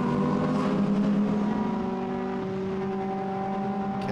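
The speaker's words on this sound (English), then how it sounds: "Ken Savage accelerating out of Stavelot" A Lotus Elise race car accelerates out of Stavelot at Spa Francorchamps, its engine note droning loud and steady with strong tonal harmonics that shift pitch as it climbs through the revs.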